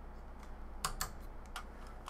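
Keys clacking on a computer keyboard during a Forza Horizon 4 drift session with a C8 Corvette, a few quick close taps with sharper strokes near the middle, fairly quiet and without talk.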